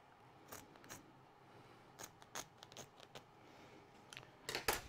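Scissors snip through a microfiber cloth in a workshop, a series of short, crisp, quiet cuts in an irregular rhythm, close up, ending with a louder cluster of snips.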